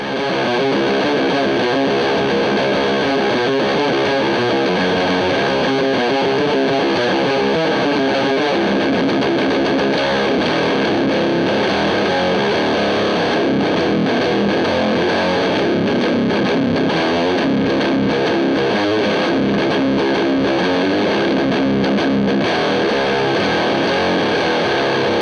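A loud, continuous electric guitar through a ZVEX Fuzz Factory pedal into an overdrive amp channel, thick fuzzy distortion with many overtones, sustained and dense throughout, with no voices.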